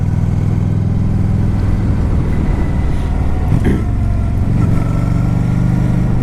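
Honda Shadow 750 motorcycle engine on a test ride, a steady loud low rumble running throughout with a brief swell partway through, no voices.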